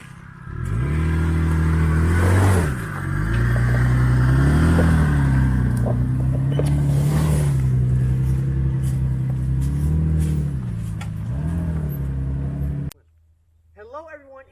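A 2004 fourth-generation Toyota 4Runner off-road engine revs up and down in repeated swells under a steady close rumble, then cuts out abruptly near the end, leaving a faint sound and brief speech.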